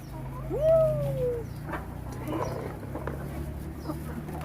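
Backyard flock of laying hens rushing for scattered feed, with clucks and soft coos over a low steady hum and one clear rising call near the start.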